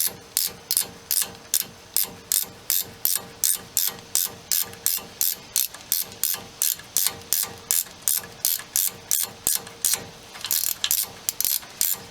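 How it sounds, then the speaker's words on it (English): A small hand ratchet clicks in quick, regular bursts while tightening an axle bolt on a 2003 Ford F150 during a rear axle install, making a crisp, close, steady series of strokes with no voices. "We're going to tighten it up with our little ratchet."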